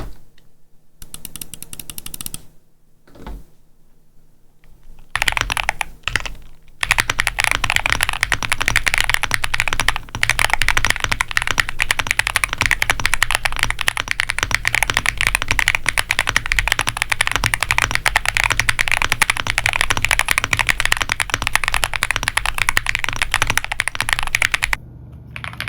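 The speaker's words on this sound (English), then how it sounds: "now we'll do a typing test" Rapid, steady typing on a YUNZII AL80 mechanical keyboard with linear switches, close and loud, a dense stream of keystroke clacks with a few brief pauses at the start and end.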